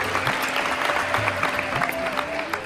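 NCC cadets in a CISF fire-safety class clap for a classmate, a moderate burst of group applause with some voices and background hum mixed in.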